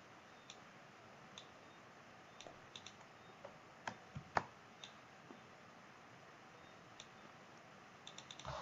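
Sparse, faint keyboard key clicks are tapped at irregular intervals while shortcuts are pressed in Adobe XD, quiet and close with no talking.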